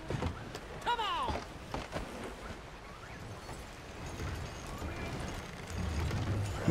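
Horse hooves clip-clop along a trail in Red Dead Redemption 2, soft repeated thuds under game ambience, with a brief whinny-like sweep early on and a rider's voice talking over it.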